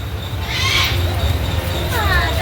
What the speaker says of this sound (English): we were trying to figure out what was that sound. And here is what it is. They got parrots.